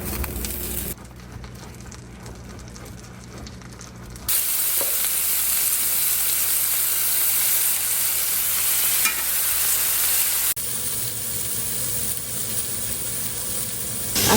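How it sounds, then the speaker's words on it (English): Steaks frying in butter in a pan, a loud continuous sizzle close by, shifting in intensity across several abrupt changes in level. "I like to cook my steaks in butter."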